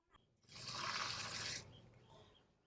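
A rushing pour of water into an herbal drinking mix for chickens runs for about a second, then stops, leaving a quieter trickle and faint handling sounds.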